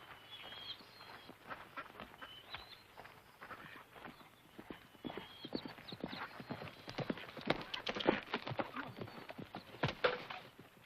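Horses of a mounted posse ride off in a 1954 Western, a quiet, spreading patter of clip-clopping hooves that grows denser over about eleven seconds, with a brief whinny and faint birdsong.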